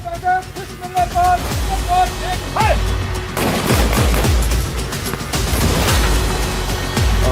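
Gunfire crackles at a military training firing range, with bursts and volleys of shots echoing loudly and continuously. Mechanical noise and some background voices sit underneath.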